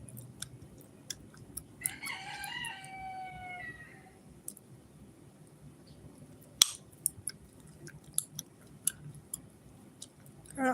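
A rooster crows once in the distance over faint outdoor background hiss, followed by scattered soft clicks and ticks, with chickens across the street.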